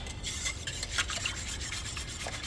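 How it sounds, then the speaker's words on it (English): Goat milk being whisked in a bowl for homemade yogurt, a close, continuous scraping and swishing with rapid repeated strokes and no voices. "I'm gonna whisk it up to combine everything real good."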